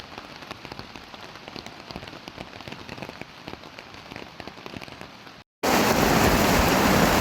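Heavy rain pours steadily at a riverside campsite at RPS Air Banun in Gerik, a dense continuous patter on canvas and ground that briefly cuts out, then returns louder and closer, with no voices.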